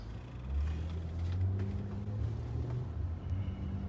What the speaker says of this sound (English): Now, upshifting to 3.